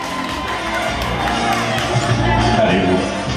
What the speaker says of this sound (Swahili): Naomba tupige makofi ya shangwe kwa kamati ya maandalizi